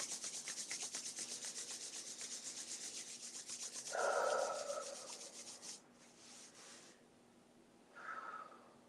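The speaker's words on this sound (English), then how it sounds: "we'll rub our hands together to return to our own bodies in our own times." Two hands rub briskly together at the close of a morning meditation, making a close, rhythmic swishing friction that runs for several seconds, then slows and stops, with a couple of soft breathy sounds after.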